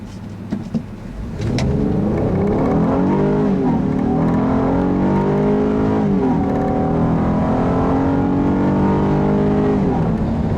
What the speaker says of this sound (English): first getting on the throttle, I'm definitely noticing just how much more potent this new engine is